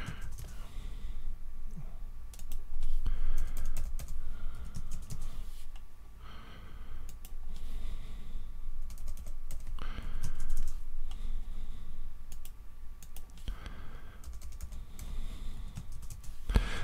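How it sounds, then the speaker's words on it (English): Computer keyboard typing in bursts of quick, close key clicks, pausing briefly between runs, with soft breathing but no talk, during setup of a modded DayZ private server. "I think I'm quicker just typing this,"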